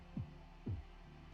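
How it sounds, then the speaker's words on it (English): A slow, heavy heartbeat echoes through a castle in a video game, two deep muffled thuds about half a second apart over a low steady hum, with no voices. "Just listen to that heartbeat."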